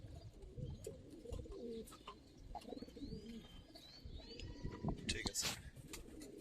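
Old-breed Giribaz pigeons in a loft give soft cooing and a few thin chirps, close and fairly quiet, over a busy background with voices.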